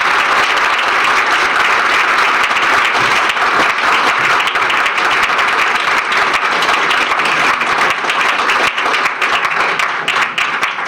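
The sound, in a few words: audience applause for the candidate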